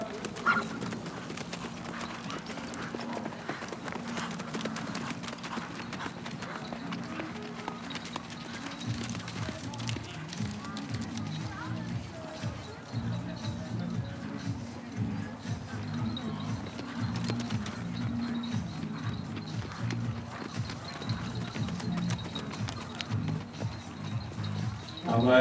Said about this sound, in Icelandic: Þarna eru tveir jafnvígir alhliða hestar.